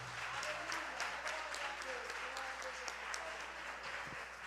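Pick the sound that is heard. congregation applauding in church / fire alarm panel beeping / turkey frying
congregation applauding in church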